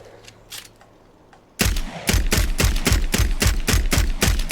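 The Homestead Carbine rifle in Fallout 4 fires in a rapid, regular series of loud sharp shots, about a dozen evenly spaced cracks after a few faint clicks and a quiet lead-in.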